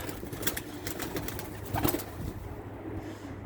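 Soft pigeon cooing murmurs through a steady, noisy background, with faint rustles and a brief flutter of wings partway through.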